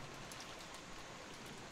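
Steady rain from the visual novel game Umineko hisses evenly, a dense soft wash of drops with no breaks, moderately faint and without voices.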